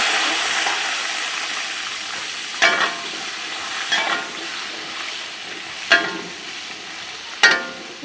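Cumin, bay leaf and five-spice with tomato fry in hot oil for a vegetarian potato curry, a steady close sizzle broken by a few louder stirring scrapes and bursts.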